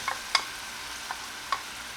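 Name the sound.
frying green and red peppers and onions in oil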